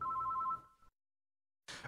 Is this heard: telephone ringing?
yes